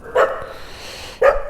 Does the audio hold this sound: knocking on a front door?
no